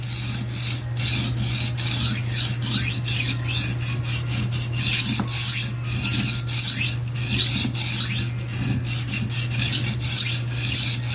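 A kitchen knife is sharpened on a wet whetstone, giving continuous rasping strokes in a steady back-and-forth rhythm, close and fairly loud, over a low constant hum.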